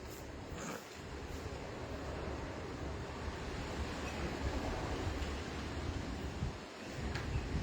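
Strong wind roars steadily over ripe wheat fields, filling the whole clip with broadband rushing noise, with a few brief gusts and dips.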